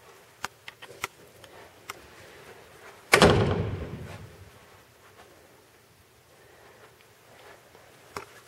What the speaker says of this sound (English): shut this door here.